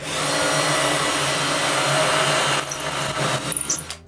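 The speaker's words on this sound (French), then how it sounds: "Sur le dessus, je perce les trous pour les vis qui vont retenir le dessus." A power drill whines steadily, boring screw holes in the wooden top of a homemade nightstand, then slows into short uneven bursts and spins down near the end; close and loud, with no voices.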